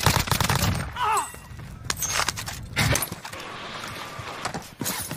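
Video game gunfire, rapid bursts and sharp shots in a multiplayer shooter match, loud and close with rattling clatter, a brief voice under the noise.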